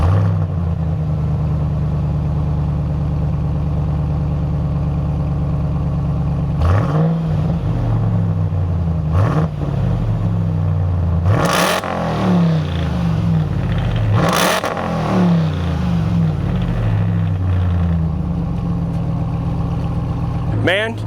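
2027 Ram TRX with a loud performance exhaust idling at close range, then revved in several sharp bursts that roar up and fall back to a deep rumble.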